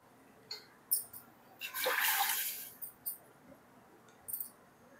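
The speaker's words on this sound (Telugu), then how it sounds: "ఈ నీళ్ళను పారబోసి మళ్ళీ నీళ్ళు పోసి పెట్టుకోవాలి." Water splashing as it is poured off and refilled in a cooking pot, a short quiet gush in the middle surrounded by small clinks and drips.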